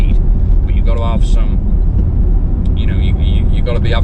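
A vintage Bentley engine drones loud and steady from inside the car while driving, a constant low rumble with faint chirps and squeaks on top.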